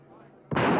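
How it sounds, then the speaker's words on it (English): A single warning gunshot fired over people's heads cracks out sharply and loudly after a quiet moment, in an old Lone Ranger western radio drama. "I'll try firing over their heads."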